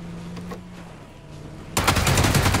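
MK47 rifle fired in a battle-royale style shooter game: a quiet stretch with faint clicks, then a sudden loud rapid burst of repeated shots that continues to the end.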